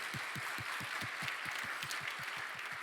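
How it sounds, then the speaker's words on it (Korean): Steady applause from a church young adults' congregation, continuous, dense clapping with a regular low thump running through it, filling the room evenly throughout. "우리 감사의 마음을 담아서 우리 박수하겠습니다"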